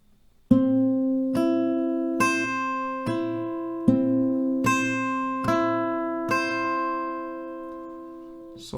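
Acoustic guitar slowly picking a song part, eight evenly spaced single notes each ringing out and decaying, close and clear with no talking.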